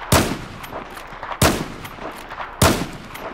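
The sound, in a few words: lever action rifle firing in Battlefield 4 video game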